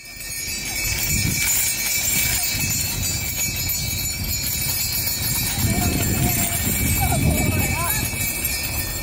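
Hooves of a Death Valley twenty-mule team clip-clop steadily as the wagon pulls in outdoors, a continuous near-to-mid-distance trotting rhythm under ambient noise and a faint whinny.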